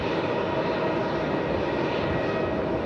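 An airliner takes off from runway 27, the cross runway at Melbourne Airport, as a steady, loud, broadband engine roar holds without a break throughout.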